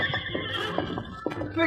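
A horse whinnies in short bursts at a riverbank in a Lone Ranger radio drama, over a steady background with some speech-like sounds, fairly close and moderately loud.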